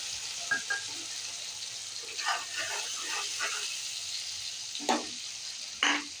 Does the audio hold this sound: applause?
no